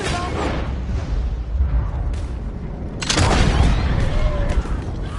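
Gunshots and a heavy explosion in Red Dead Redemption 2 online gameplay on PS4 Pro, loud booms and cracks over a rumbling background, with a big blast swelling around the midpoint.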